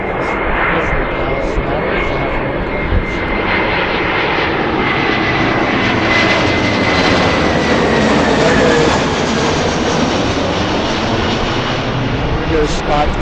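A jet airplane at Philadelphia airport gives a loud, continuous engine roar with a steady high whine throughout, and talking is mixed in over it.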